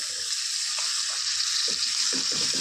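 Onions, green chillies and tomatoes fry in a hot pan with a bright, dense, constant sizzle, joined near the end by a few soft stirring scrapes.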